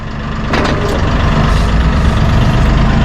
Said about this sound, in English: Pretty nice, easy to operate backhoe from Massey Ferguson.